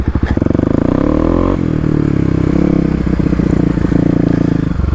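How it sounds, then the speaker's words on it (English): A Kawasaki KLX250 dirt bike rides off-road, its engine loud and close with steady revving, shifts in pitch, and clattering and scraping from rough terrain underneath. "It's one of his first times off-road on his KLX."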